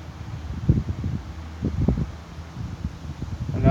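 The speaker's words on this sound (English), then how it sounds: "The little breeze keeps the bugs away and all that." A light breeze rustles softly outdoors, with gentle irregular gusts and faint rustling swelling and fading.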